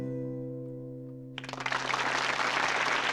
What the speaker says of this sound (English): Erupts in applause.